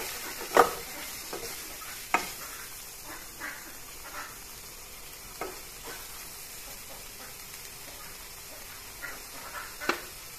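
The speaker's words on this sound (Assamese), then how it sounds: "এইখিনি অলপ লৰাই লওঁ" Cumin and coriander powder fry in a pan and are stirred, making a soft continuous sizzle with scattered scraping clicks from the spoon.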